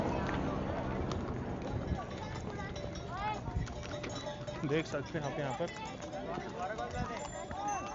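Mules clip-clopping along the Kedarnath trek path, many hoofbeats in an irregular stream with animal calls and crowd bustle around them, while someone talks over it.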